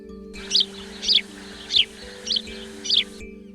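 Small birds chirp near birdhouses on a home terrace, five bright, evenly spaced tweets about half a second apart, close and clear over a steady low hum.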